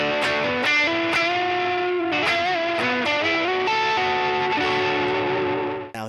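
An electric guitar through an HX Stomp boost plays a bright, slightly driven melodic line with picked single notes and bends, close and alone, before the last note cuts off.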